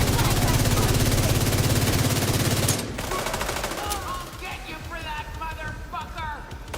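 Rapid sustained automatic fire from a suppressed gun in The Division 2 rattles loudly and continuously, then gives way to scattered shots and game effects with a voice talking over it.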